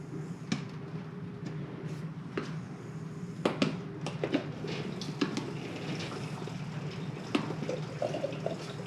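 An Avalon bottom-loading water cooler gurgles after being opened: a steady watery trickle with scattered bubbling pops and clicks, fairly quiet and continuous throughout, with no talking.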